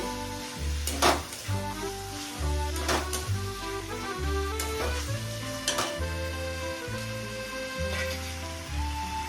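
Chicken lightly shallow-frying in a pan gives a soft, steady sizzle with occasional taps and stirring clicks, partly masked by background music.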